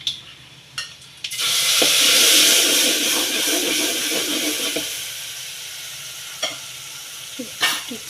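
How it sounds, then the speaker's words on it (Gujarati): Spice tempering for bajra flour khichu crackles and sizzles in hot oil, a loud, dense hiss bursting in after a brief quiet start, then slowly easing off with a few sharp pops near the end. "ખીચાનો મસાલો અત્યારે કકડાઈ રહ્યો છે."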